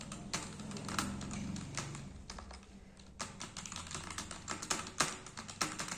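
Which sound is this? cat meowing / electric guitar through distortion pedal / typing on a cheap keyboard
typing on a cheap keyboard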